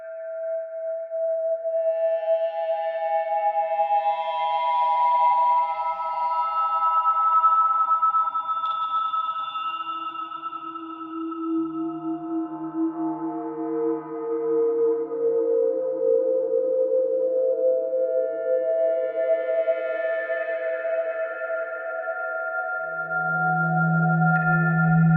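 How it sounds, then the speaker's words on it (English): Haunting pad-like synthesizer tones with long reverb tails, sustained layered notes slowly shifting pitch and swelling, alone with no voices, dark sci-fi mood. "it now completely is transformed from this short techno step to this almost pad-like, very haunting sound"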